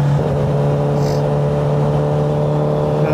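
A Ducati motorcycle with a V2 engine hums steadily, its engine tone holding even and loud under road and wind noise for a few seconds, with no voices.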